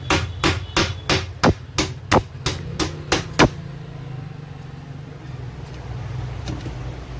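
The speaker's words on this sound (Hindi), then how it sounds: "अब मैं इसमें भी कांटी ठोकूँगा" A hammer drives nails into a box built from scrap, with about ten sharp, evenly spaced blows in quick succession, then silence apart from a low background hum.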